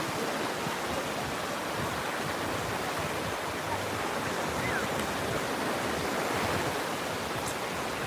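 Waves on a quartz-sand beach in Florida at the end of the day, a steady, broad wash of surf rolling continuously at moderate loudness with no voices.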